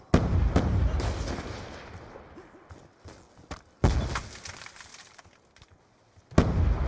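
Sniper gunfire in a shooter video game, with several sharp shots spaced irregularly across several seconds, each followed by a booming decaying echo, loud and close with no talking.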